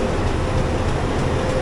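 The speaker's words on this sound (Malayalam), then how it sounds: "ഈ കിടക്കുന്നതാണ് നമ്മുടെ ട്രെയിൻ" The 22207 Chennai–Trivandrum AC Superfast stands at a Chennai Central platform, with a loud, steady rumble of rail and station noise throughout and no pauses.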